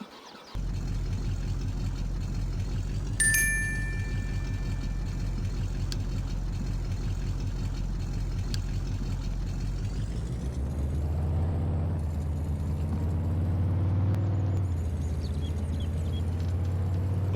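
A truck engine runs steadily in the survival video game Vintage Survival: Rehdornheim, a loud low rumble with a brief high whine early on, shifting to a deeper, heavier drone partway through.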